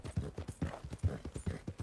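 Steady hoofbeats clatter in a quick rolling rhythm, a horse galloping close by in the video game Red Dead Redemption 2, with a few heavier thuds mixed in.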